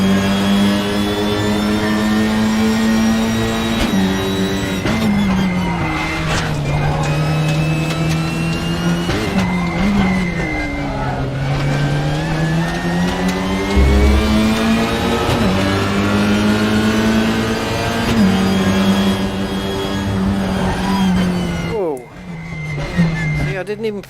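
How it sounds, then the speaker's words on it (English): Engine sounds from a racing sim video game played with a racing wheel: a loud, continuous car engine rises and falls in pitch as it revs and shifts, with someone talking over it throughout. "The only thing it has good going for it now are the engine sounds."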